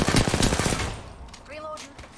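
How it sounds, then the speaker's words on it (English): Rapid gunfire in a first-person shooter game, loud and dense for under a second before cutting off, followed by quieter game effects. "Getting shot at."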